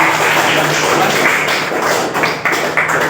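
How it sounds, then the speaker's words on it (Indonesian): Classroom applause for a student, dense rapid clapping from many hands, close and loud, holding steady for several seconds before thinning slightly, with no talk over it. "beri aplaus dulu pada Nasrullah"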